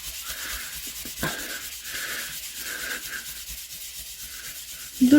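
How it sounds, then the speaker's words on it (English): Hand polishing of a shiny surface for a craft piece, a close, steady rubbing swish in repeated strokes at moderate level, with a louder knock near the end. "I'll try polishing out this one as well."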